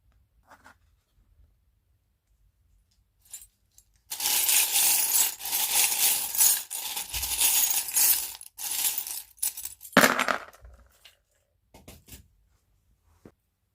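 Small metal charms are drawn and dropped onto a tray during a divination reading, a close clattering jingle of many pieces tumbling and rattling for several seconds, then a few sparse clinks, with near silence before.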